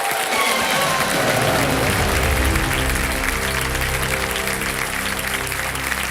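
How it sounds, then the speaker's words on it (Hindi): Studio audience applause on the quiz show Kaun Banega Crorepati, a dense, loud, sustained roar of clapping with low music playing underneath. "तालियां बज जाए"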